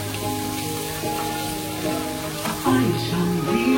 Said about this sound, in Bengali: এখন অলরেডি একটা ভাজার কাজ চলছে।